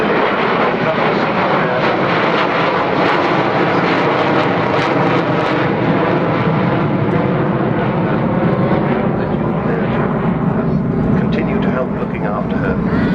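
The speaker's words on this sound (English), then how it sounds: "Here she is with the wheels down, doing fairly low approach, but going to go round again" An Avro Vulcan bomber with wheels down makes a low approach and go-around at Farnborough Airshow: a loud, continuous, rumbling jet roar sustained throughout, with a voice faintly audible beneath it.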